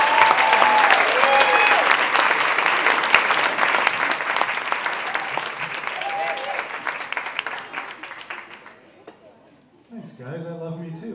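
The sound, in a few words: audience applause for a comedian coming on stage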